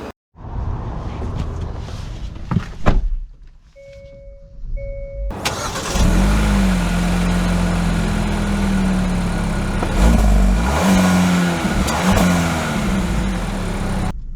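A 2024 Hyundai Kona Limited idles through a few cabin clicks and soft tones, then its engine rises and settles into a steady interior drone as it pulls away and drives, with brief swells of acceleration.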